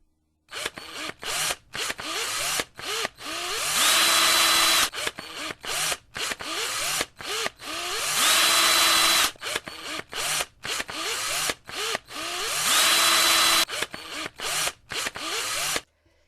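An electric mixer whisks cream for a cheesecake, whirring in repeated on-off bursts with a few longer steady runs, loud and close, with no speech over it.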